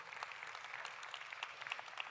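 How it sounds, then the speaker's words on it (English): An audience claps together in steady applause, faint and somewhat distant, with no voices over it. "Let's give him a round of applause"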